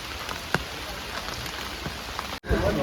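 Steady rain patters on the ground and foliage along a forest trail to the Anayadikuthu waterfall near Thodupuzha, a constant close hiss with a few brief knocks and a sharp cut near the end.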